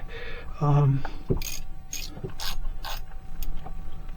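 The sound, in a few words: ratchet tightening aluminum valve cover bolts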